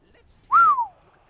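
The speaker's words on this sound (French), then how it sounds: "désolé pour le petit sifflement là" A single short whistle, rising then gliding downward, clear and close against near silence.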